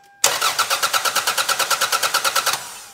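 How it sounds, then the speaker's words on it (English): A car engine cranks over in a fast, even rhythm of about twenty pulses, churning for a couple of seconds without catching, then stops; the car cranks but will not start. "diagnose problems with a car that cranks but does not start"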